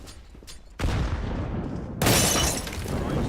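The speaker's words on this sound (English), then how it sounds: "Throwing flashbang" Two sharp blasts from a flashbang grenade in Counter-Strike, the first bursting just under a second in and a louder, brighter one at about two seconds, each trailing into a sustained ringing hiss.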